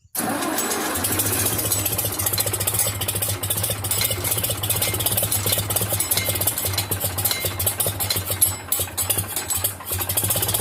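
A Farmall C tractor engine starts and settles into a low, rough idle, chugging steadily and loudly close by.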